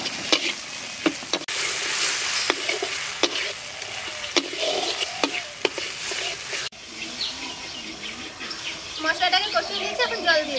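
Spice paste for a magur fish curry stir-fried in a pan, giving a loud continuous sizzle with sharp spatula scrapes at irregular intervals and a softer, bubbling stretch toward the end.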